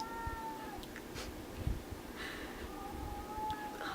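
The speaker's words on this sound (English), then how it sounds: "my cat is making a lot of noise." A cat meows several times, drawn-out cries rising and falling over a steady low background hum, fairly close.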